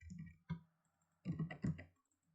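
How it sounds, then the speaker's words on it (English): A computer mouse clicks in a quiet room, with a lone click followed shortly by a quick double click, close and soft with no talk. "Double click."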